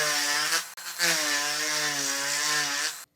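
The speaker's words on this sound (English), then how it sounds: "So I can take a Dremel tool and open up these holes just a little bit to the top." Dremel rotary tool with a small round grinding bit whining steadily as it bores out holes in a cherry wood fishing lure, a loud close tonal drone with one brief break, no talking.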